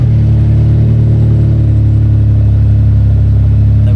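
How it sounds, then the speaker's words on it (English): A BMW car engine runs after being started, a loud steady mid-pitched idle hum with a strong low drone that holds evenly throughout, close and alone with no talking. "So now that's coded, we're going to turn the car on, see if everything works."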